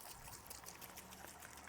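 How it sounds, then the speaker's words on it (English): Water from a rinsed hydroponics container is poured out in a steady, soft trickle that runs without a break over a short stretch and stays quiet and even. "I'm gonna rinse this out, dump the water,"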